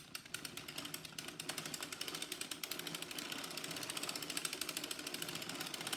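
A knitting machine carriage is cranked across rows of waste yarn, making a rapid, even mechanical clatter of needles that runs continuously and fairly close, with no voices.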